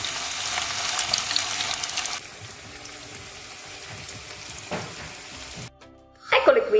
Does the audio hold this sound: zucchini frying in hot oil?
yes